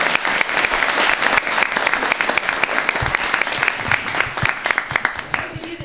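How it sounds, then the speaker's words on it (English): Audience claps for a children's choir at a library performance, loud close applause with distinct individual hand claps and crowd murmur that gradually thins toward the end. "So I would like to give them a little applause."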